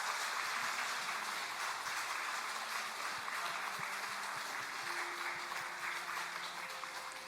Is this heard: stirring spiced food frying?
no